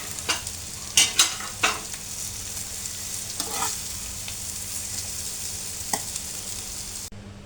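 Boiled noodles stirred together with frying chicken, egg and carrot in a hot pan: a steady sizzle under scraping spatula strokes and a few sharp knocks against the pan, with no talking.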